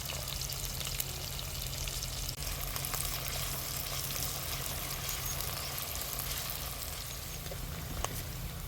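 Green chillies and curry leaves sizzle in hot oil with a steady, bright crackling hiss that continues evenly throughout, close and moderately loud, with occasional small pops and no speech.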